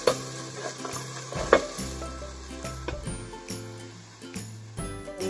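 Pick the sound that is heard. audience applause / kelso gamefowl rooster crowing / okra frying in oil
okra frying in oil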